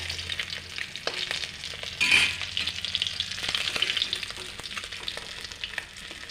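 Fish frying in oil in a pan, a steady crackling sizzle with bursts of spattering and occasional utensil clicks, close and alone without talk.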